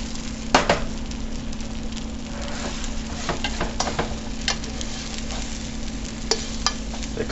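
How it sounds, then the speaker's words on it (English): Eggs being scrambled in a hot frying pan sizzle steadily while a utensil scrapes and stirs them, with several sharper clicks and scrapes against the pan over an even frying hiss. "I'm making it somewhat like fried, similar to fried, but I'm gonna scramble them."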